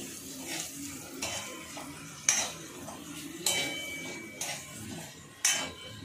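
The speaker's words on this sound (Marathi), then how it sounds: "मग पातीचा कांदा टाकायचा, तो छान परतून घ्यायचं मस्तपैकी." Spring onions sautéed and stirred in a pan for homemade chilli chicken: a low steady sizzle under repeated sharp scrapes and clinks of a utensil against the metal, roughly every second, close and clear with no talking.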